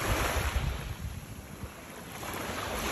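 Sea waves wash at a beach, a faint, continuous broadband rush with soft surges, mixed with wind noise on the microphone and no voices.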